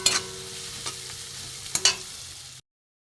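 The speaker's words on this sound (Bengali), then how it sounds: "মশলাটা আমি দিয়ে দেবো, একটু ভালো করে কষিয়ে দেবো।" Spice paste of chilli powder, grated ginger and ground cumin, coriander and pepper fries in a pan for a cabbage and egg curry, giving a steady close sizzle with a few sharp stirring scrapes before it cuts off.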